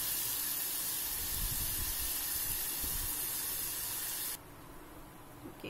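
Tomatoes cooking down in a covered pan for shev bhaaji give a steady, loud hiss of steam and sizzle that drops abruptly to a softer, muffled simmer near the end, with no talking.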